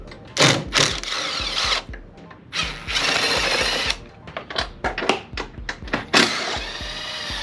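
A wrench and socket working 10 mm bolts off the front bulkhead of a Can-Am X3 give rapid bursts of ratcheting clicks and metallic rattles, starting and stopping repeatedly, close and fairly loud.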